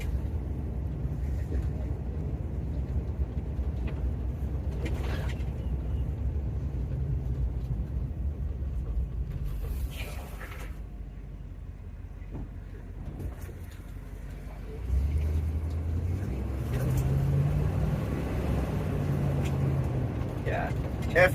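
A Ford Bronco drives with its automatic transmission shifting, a low engine rumble heard from inside the cab that steps up in level partway through, with faint intermittent knocks and rattles.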